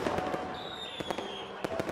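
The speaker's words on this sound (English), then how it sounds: "Dazzling fireworks bloom in the night sky." Night fireworks above an amusement park, several quick sharp pops and cracks in an irregular run over a continuous crackling wash, with a faint whistling tone drifting through.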